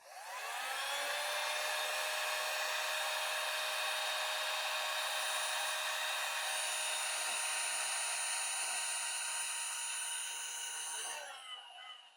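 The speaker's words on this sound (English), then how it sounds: "Quickly take my heat gun to it." A heat gun blows steadily while melting beeswax, a continuous loud whirring hiss that runs unbroken for about eleven seconds before cutting off near the end.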